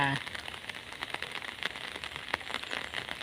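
Storm rain patters steadily on a surface, with scattered drops ticking over a soft continuous hiss.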